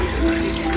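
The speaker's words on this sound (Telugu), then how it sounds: "నీళ్ళు పోసుకోండి" Water runs and splashes steadily into a vessel to wash lentils (dal) in a home kitchen, a close, loud, continuous gush with no talking.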